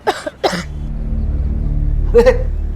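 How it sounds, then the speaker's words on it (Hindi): A woman gives a few short, sharp coughs close by, two quick bursts followed by a pause and then another rough cough over a low hum. "भाभी जी को खांसी आई"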